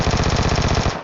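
Rapid automatic gunfire from the mobile battle-royale game PUBG Mobile, a loud, close burst of roughly a dozen evenly spaced shots lasting about a second, with no talk over it.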